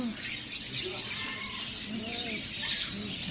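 Pigeons, including Borga and Homer types in blue bar colouring, coo softly at a bird market in Souq Al Wakrah, Qatar. A few faint, warbling coos rise over a busy background of market murmur.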